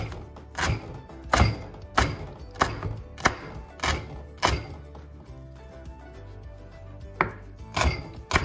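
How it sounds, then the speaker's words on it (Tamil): Plantain skins are chopped into small pieces with a knife on a board, giving a steady series of sharp, close thunks at roughly even intervals, heard alone. "உள்ள உப்பு நான் கரைச்சி போட்டு வாழைக்காய் தோலை எடுத்து நாங்கள் சின்ன சின்னாக வெட்டுவோம்."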